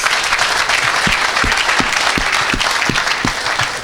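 A church hall congregation applauding for grace, steady sustained clapping from a crowd with rhythmic louder claps on top, no talking.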